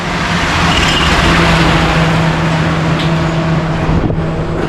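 A truck rolls along a road in Da Nang, a loud, steady engine and tyre rumble holding through the whole stretch with a low droning hum, passing close by without any talk over it.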